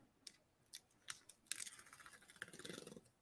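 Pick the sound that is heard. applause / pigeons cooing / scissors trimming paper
scissors trimming paper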